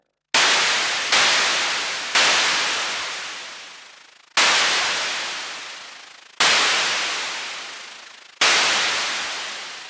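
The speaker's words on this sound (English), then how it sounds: "open the envelope out so it's got a longer tail to it, so it's more like a cymbal sound" A synthesized cymbal from a Roland System 100m analogue modular synth: six loud, hissing noise crashes, each struck sharply and then fading over a long tail, spaced irregularly with no voices.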